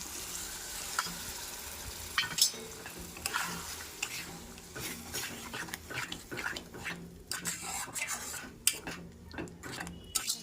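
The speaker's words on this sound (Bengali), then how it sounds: "এবার আমি নাড়াতে থাকবো যতক্ষণ না শুকনো হচ্ছে।" Poppy seed paste with green chilli paste and Kashmiri chilli powder is stirred in a pan with onions. The quiet, irregular scraping strokes sit over a faint sizzle.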